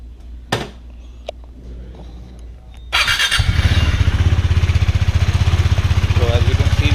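A KTM Duke 390 motorcycle engine starts up after a quiet stretch and then runs steadily in first gear with a close, pulsing mechanical thrum and a bright spray-like hiss over it.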